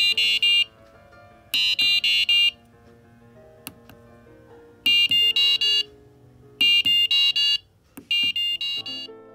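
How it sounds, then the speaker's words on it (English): Electronic alarm tones from an Arduino buzzer project, bursts of rapid high-pitched beeping in repeated groups of four or five, loud and close, with brief clicks and pauses between changing tone patterns. "When I am pressing the D7 button, the alarm tones play"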